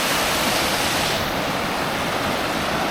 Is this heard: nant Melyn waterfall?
yes